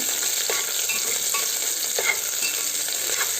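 Onions frying in a pan for a Telugu dish, a soft steady sizzle close by, broken by a few light scraping stirs of a spoon against the pan.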